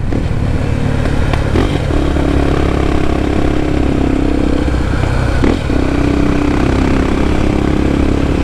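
A Honda XR Tornado motorcycle with an aftermarket BHP exhaust pipe idles loudly and steadily up close with a deep, throaty exhaust rumble, briefly blipping the throttle twice.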